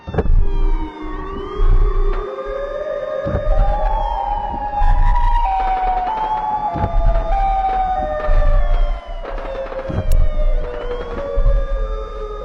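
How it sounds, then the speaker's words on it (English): Several tones of a Chicago tornado siren wail and slowly rise and fall together, loud and droning, with a low rumble underneath throughout. "the audio comes from this tornado siren in Chicago"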